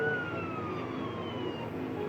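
A police car siren wails somewhere in the distance, its pitch sweeping slowly down, faint beneath a busy wash of background noise.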